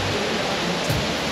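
Waterfalls in the Dolomites give a dense, steady roar of rushing water, loud and close, filling the whole short stretch with no voices.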